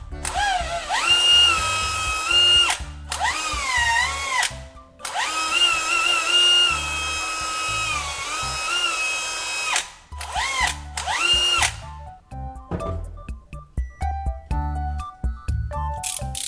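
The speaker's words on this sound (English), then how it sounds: "I use a drill bit to make a hole in the center of the bottle cap." A power drill whines in long high-pitched bursts as it bores through plastic, stopping and restarting, followed by quieter clicks and handling sounds.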